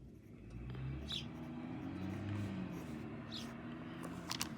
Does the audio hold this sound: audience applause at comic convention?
no